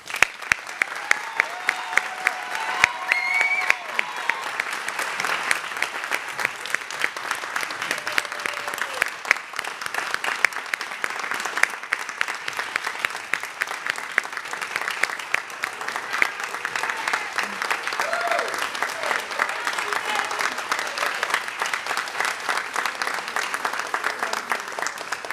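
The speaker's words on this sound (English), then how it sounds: "let us send our graduates off with one more round of applause" An audience at a Lancaster County Academy graduation ceremony gives the graduates a long, steady round of applause that carries on evenly throughout, dense and moderately distant, with no speaking over it.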